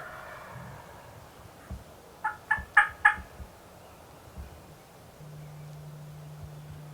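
A mature wild turkey gobbler gobbles in the distance, a quick rattling burst of several notes, over quiet outdoor ambience with faint rustling.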